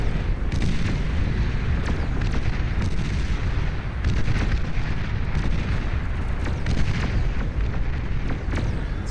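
A long line of robot Titans fires artillery in the strategy game Beyond All Reason, a loud, dense, unbroken barrage of overlapping booms and blasts rolling on without pause.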